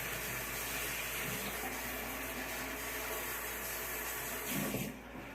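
Tap water runs steadily at a sink while a cat is cleaned, a constant broad hiss filling the whole stretch, with faint muffled bumps and a slight swell near the end.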